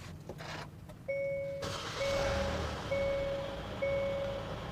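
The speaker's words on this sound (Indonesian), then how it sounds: "Saya akan coba starter mesinnya supaya kelihatan." A 2021 Hyundai Staria MPV engine cranks and catches, settling into a low steady run, while a chime from the dashboard repeats several times over the engine sound.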